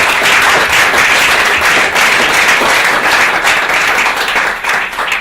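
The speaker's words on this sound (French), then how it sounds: "Oui, on peut applaudir." An audience applauds after a talk on fibromyalgia, with dense, sustained clapping that stays loud and even for the whole stretch before easing slightly at the end.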